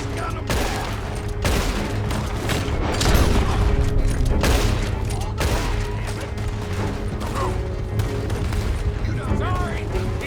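Gunfire erupts during a coach robbery in Red Dead Redemption 2, a dense, close volley of sharp shots and cracks going steadily for about ten seconds, with shouting voices in the mix.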